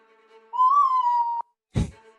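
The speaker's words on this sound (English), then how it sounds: "Is that a whistle I hear in the background?" A single sustained whistled tone wavers slightly for about a second in the background of a Malifaux tabletop game session, followed by a brief dull thump.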